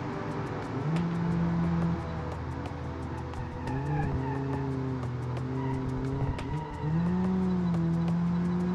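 Car engine in the BeamNG.Drive driving game, an engine replica built in Automation, held at full throttle, with a steady loud drone that rises and dips as it shifts, plus tire squeal.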